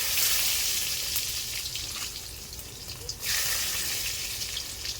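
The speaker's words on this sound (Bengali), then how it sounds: "তেলটা গরম হয়ে গেছে, দিয়ে দিচ্ছি তেজপাতা, জিরে ফোড়ন, গোটা গরম মশলা, রসুন কুচি" Bay leaves, cumin seeds, whole garam masala and chopped garlic dropped into hot oil for ghugni, sizzling loudly and steadily, with a brief dip before the frying surges again.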